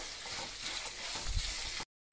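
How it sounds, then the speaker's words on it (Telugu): Tempering for tamarind rice sizzles steadily in a hot pan, a loud continuous crackle with a brief stirring scrape near the end before it cuts to silence. "తాలింపు వేగిపోతుంది"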